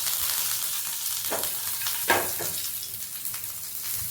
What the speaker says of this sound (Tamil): அது கடுகு பொரியணும்